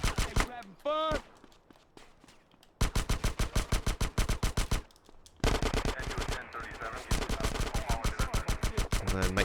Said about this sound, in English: So we gotta micro SMG these guys.